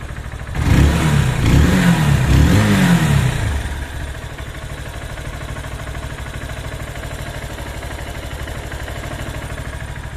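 A motorcycle engine treated with Lucas oil stabilizer revs in a few loud, throaty bursts, then drops back to a steady, quieter idle that runs on to the end.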